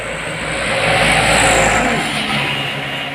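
A heavily loaded truck takes a bend at high speed, tilting as it goes. Its loud engine roar swells to a peak and then eases off as it passes close by.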